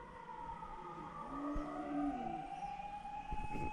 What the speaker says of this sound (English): Guys, do you hear siren?